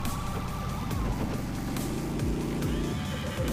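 A camel in the desert level of the Smashy Road: Wanted 2 video game gives a loud, drawn-out groaning bray, layered over a continuous droning car engine.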